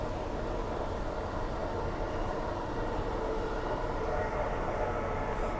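Steady rumble of a suburban electric train carriage running from Thornlie toward Elizabeth Quay, a continuous broadband roar of wheels and motors with faint background voices throughout.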